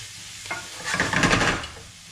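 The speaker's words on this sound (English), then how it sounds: "As the onions are cooking, just keep giving them a stir." Onions sautéing over a medium flame in a pan for a vegetable curry, with a steady sizzle that swells in the middle as they are stirred, then settles back to a quieter hiss; no talking.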